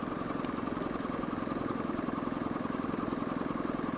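A Honda CRF250L motorcycle engine thrums steadily at low revs, around 2,500 rpm in sixth gear at about 40 km/h, a continuous throbbing drone with a rapid even pulse and no other sounds.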